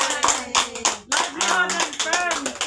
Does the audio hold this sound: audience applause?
yes